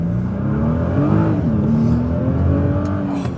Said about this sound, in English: Now let's get in the car and take her for a rip, Peter Chip.